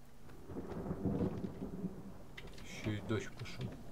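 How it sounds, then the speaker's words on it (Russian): Steady rain with low rumbling in the game The Forest, overlaid by a muffled voice talking, then a brighter patch of crackling drops near the end. "Еще и дождь пошел."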